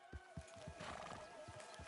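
A horse in the video game Red Dead Redemption whinnies while its hooves clip-clop in a steady, close rhythm across a quiet game soundscape.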